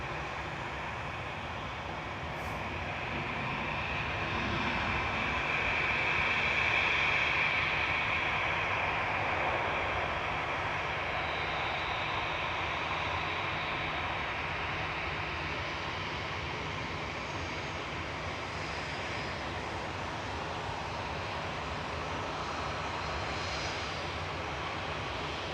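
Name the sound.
Etihad Airways Boeing 777-300ER landing over the threshold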